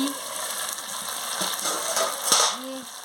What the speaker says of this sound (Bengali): কষিয়ে নিচ্ছি দেখুন জলটা ভালোভাবে মরে গেলে তারপর জল দিয়ে দেবো